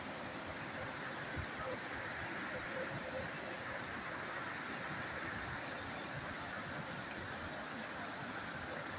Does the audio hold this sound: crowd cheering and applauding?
no